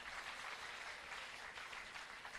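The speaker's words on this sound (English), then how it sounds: "So give a big round of applause" Applause from a gathered audience at a Sri Rama Navami devotional event, a continuous wash of clapping heard faint and distant, even in level from start to finish.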